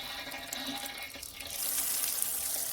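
Tap water runs steadily into a reclaimed cast iron sink at a DIY vegetable wash station, a broadband rushing hiss that swells louder partway through as the flow increases, close by with no talking.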